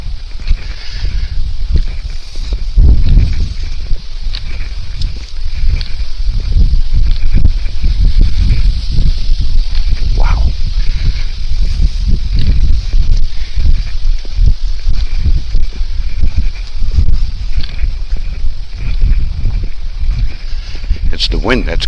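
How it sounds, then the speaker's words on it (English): Wind buffets a microphone on a cold, windy early-morning hike in Minnesota, a loud, continuous low rumble and roar that lasts throughout while a hiker talks over it. "It's the wind that's cold, and right now we're just hoofing right into it."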